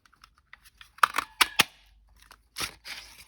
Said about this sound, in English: Grab your punch, and I'm going to cut that out.